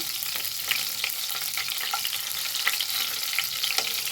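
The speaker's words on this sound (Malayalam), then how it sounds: "ഈ മുളക് വറുത്തെടുക്കുന്നത്" Chillies frying in a pan give a close, steady crackling sizzle, with sharp pops scattered throughout and no voices.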